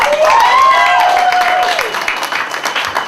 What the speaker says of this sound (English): Give yourself a round of applause, really.